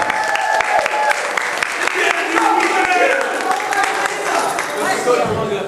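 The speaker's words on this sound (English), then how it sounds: "Let's give Aperture Science a big round of applause." Audience at an anime convention gives a big round of applause, dense sustained clapping from a crowd filling the room, loud and steady, with voices and cheers mixed into it before it begins to fade at the end.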